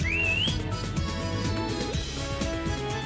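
A character whistles in the video game Sonic Adventure DX, a short rising-and-falling whistle at the start over busy game music and effects, with no talk.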